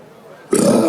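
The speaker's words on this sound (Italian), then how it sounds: "Mi scappa un ruttino." A single short, throaty burp bursts out close to the microphone after a moment of near silence.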